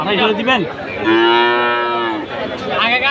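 A black crossbred heifer calf at a cattle market in Fasiladanga gives one long, loud, close moo lasting over a second, with a voice briefly before and after it.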